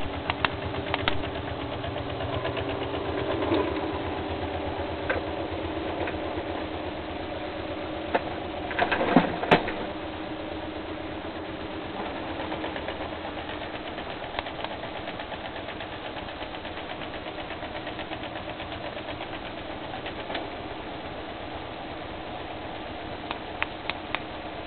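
A bipolar stepper motor running on a 9.6-volt supply makes a steady whirring, buzzing drone with fine rapid pulsing. A few louder clicks and knocks break through it for about 25 seconds, and no one speaks.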